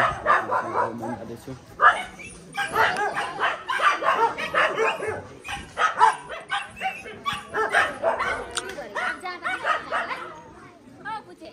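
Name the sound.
dogs barking at a temple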